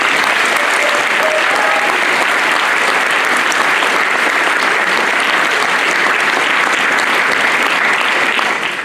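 An outdoor audience at the Vlčnov Ride of the Kings folk festival applauds in a loud, dense, sustained wash of clapping that runs evenly through the whole stretch.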